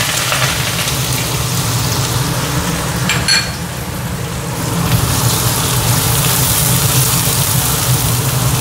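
Chopped onions hit hot oil already crackling with mustard seeds, cumin and asafoetida, giving a steady, loud hiss of frying that swells slightly after the onions go in, with no voices.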